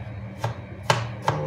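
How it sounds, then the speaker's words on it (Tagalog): A knife chops onions on a cutting board in three crisp, close strikes spaced roughly half a second apart, each a sharp thud over a quiet kitchen background. "Ang onions guys, mahilig din ako maghiwa-hiwa ng onion."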